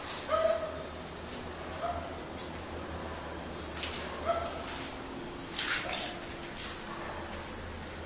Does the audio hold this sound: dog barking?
yes